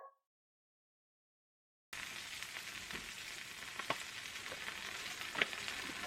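Flank steak seasoned with carne asada seasoning sizzles steadily in a pan on a stovetop, a constant close frying hiss with a few small pops, starting after a brief silence.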